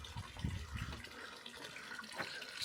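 Water splashes and trickles steadily from a stone village drinking fountain outdoors, a soft continuous flow with faint splatter.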